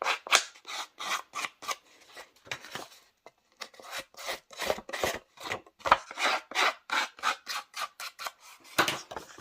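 Paper edges are torn and roughed up by hand for a distressed look in a stamping craft project. Short, crisp ripping and scraping bursts repeat in an uneven rhythm, close up with quiet gaps between them.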